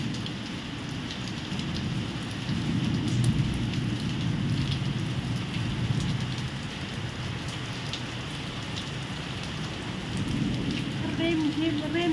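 Steady rain pours down continuously, a dense even hiss of drops striking surfaces close by, with no voices over it.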